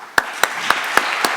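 Five crisp, evenly spaced claps ring out close and loud, about a quarter second apart, at the end of a talk at a conference on cultural heritage.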